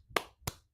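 Two sharp hand claps ring out close and alone, spaced about a third of a second apart.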